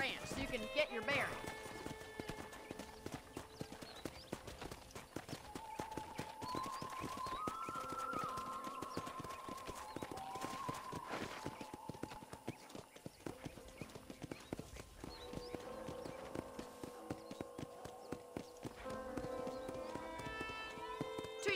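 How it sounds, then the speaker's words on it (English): Rhythmic clip-clop of a horse's hooves in Red Dead Redemption, steady trotting on a ranch with an occasional whinny, heard under a voice talking across the whole stretch. "let's see if you can still ride a horse"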